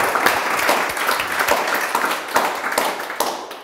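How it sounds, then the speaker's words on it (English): Lively round of applause from a conference audience, close and fairly loud, with distinct individual claps punctuating the continuous crowd clapping for a few seconds. "Will you give Stephen Matt a big round of applause for that?"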